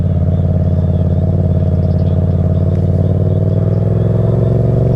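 A motorcycle ridden home after time on a Honda Grom, its engine droning steadily and loudly at close range with a constant low rumble and no pauses.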